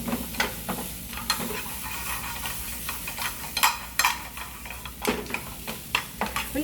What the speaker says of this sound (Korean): 조개 이제 넣고 조개가 입을 벌릴 때까지 볶는 거예요.